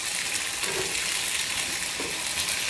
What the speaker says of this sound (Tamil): நல்லா இன்னும் கொஞ்சம் வதக்கணும்.